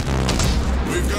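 A loud, booming explosion as an enemy cruiser is destroyed in World of Warships, a heavy low rumble with crackling bursts lasting about a second.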